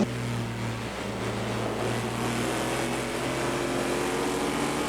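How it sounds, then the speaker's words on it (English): A steady, droning aluminum-block, titanium-valve V8 race car engine roar holds at a constant pitch throughout, loud and continuous with no clear revving or gear changes, during a 2011 ALMS sports car race at Road America. "That's the sound of an aluminum block titanium valve V8 pushed to the limit, 24 hours straight"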